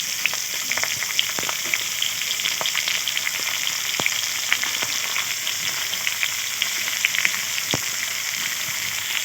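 Chopped onions fry in oil with green chillies and bay leaves for a village-style chicken curry, a steady close sizzle dotted with sharp crackles and pops throughout, with no talking.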